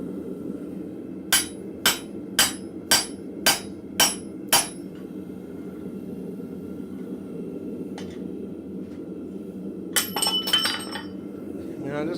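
Seven sharp, evenly spaced hammer blows ring out on a drift through hot steel at a blacksmith's forge, followed by a quick cluster of lighter metallic clinks, with low shop hum underneath.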